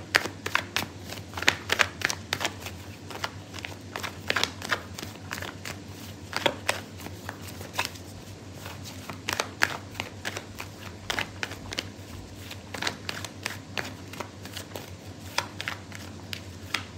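Tarot cards being shuffled close by, a quiet run of crisp riffling snaps and slaps in irregular bursts over a low steady hum.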